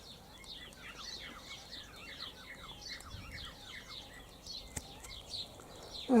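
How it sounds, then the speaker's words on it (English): Bird in a cottage garden singing a rapid series of thin high chirps and trills, fairly faint and steady over a quiet outdoor background, with a soft bump near the end. "Listen to that bird."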